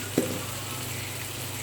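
Ground turmeric, cumin and chili sauté in a pan before vegetable stems go in, producing a continuous even sizzle after a single brief knock at the start.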